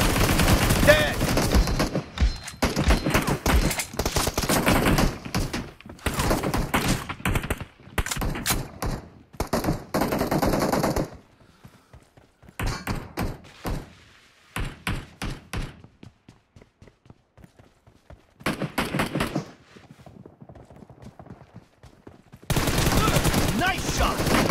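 Gunfire in the battle royale game PUBG, with loud bursts of rapid automatic shots and scattered single cracks in several clusters, separated by quieter stretches.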